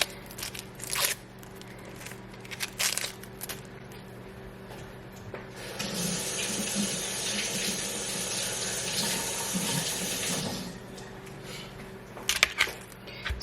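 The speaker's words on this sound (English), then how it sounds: "and go give your onion a rinse." An onion rinsed under a running kitchen tap: faint handling knocks at first, then a steady rush of water for several seconds, with a few clunks as it stops.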